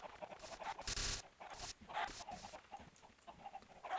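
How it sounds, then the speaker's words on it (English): Minecraft chickens clucking in short bursts over the game's ambient background, fairly close, with a few louder squawks standing out. "I feel sorry for those chickens"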